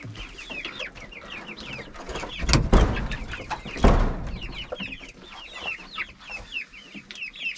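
Chicks peep rapidly and continuously at close range in a coop, with clucking and a couple of loud rustling thumps in the middle.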